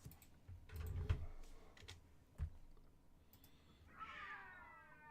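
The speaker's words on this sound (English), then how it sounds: "Oh, I can hear the cats. They had a bit of a clash." Cats clash with a faint, drawn-out meow near the end, set against quiet keyboard typing and soft clicks indoors.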